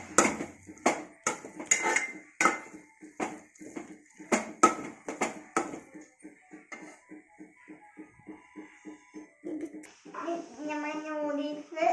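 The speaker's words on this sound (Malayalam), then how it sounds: "നല്ലോണം മിക്സ് ചെയ്ത് കൊടുക്കാം." Noodles mixed in a pan, with rhythmic metal clanks and scrapes of a utensil against the pan, close and fairly loud, while a voice talks over part of it.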